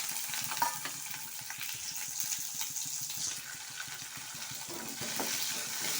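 Fennel and other spices frying in hot oil for chickpea kuzhambu, a close, steady crackling sizzle with small spitting pops throughout.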